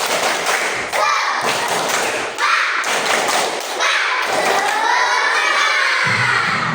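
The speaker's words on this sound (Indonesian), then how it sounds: "Ayo kita tepuk semangat dulu. Tepuk semangat." Schoolchildren in a classroom perform a rhythmic group clapping chant, loud patterned bursts of claps alternating with their shouted voices in unison, close and energetic throughout.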